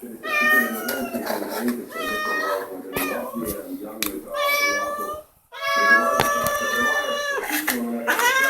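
Several domestic cats meow repeatedly and insistently for food, their overlapping cries close and loud with brief pauses between bursts.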